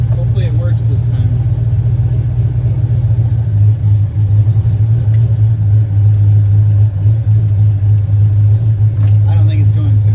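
A turbocharged Foxbody Ford Mustang engine rumbles steadily at a loud, close, sustained drone with slight swells in revs, a voice faintly present over it.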